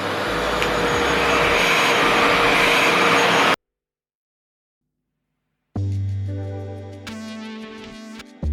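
A Revair reverse-air hair dryer running with suction on high, a loud steady vacuum-like roar that cuts to silence, then restarts with a whirring tonal hum that slowly winds down.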